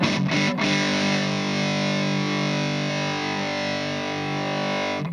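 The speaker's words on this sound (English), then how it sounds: "Let's try some of the other sort of overdriven sounds that we can get." Hagstrom Swede Gold Top electric guitar through heavy overdrive, a thick distorted sustained chord ringing out for several seconds after a couple of quick attacks, loud and close with no talk.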